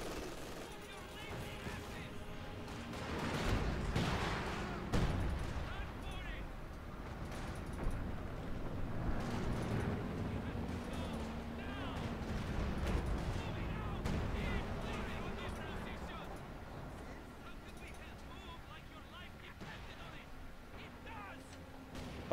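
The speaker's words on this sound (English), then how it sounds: "I'm gonna hit that guy with the rocket." Rocket and artillery fire from the video game Company of Heroes 2, with repeated booming blasts and crackling gunfire layered in a dense, continuous battle din.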